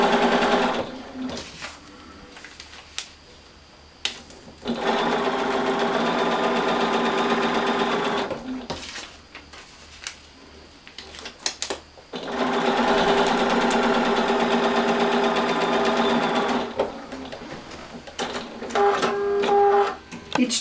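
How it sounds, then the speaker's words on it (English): Sewing machine stitching fabric along a marked pattern line, running in two long steady whirring bursts with short pauses and clicks between them, close and fairly loud. "Each time I'm sewing right on the line, and that makes it a little easier to work with."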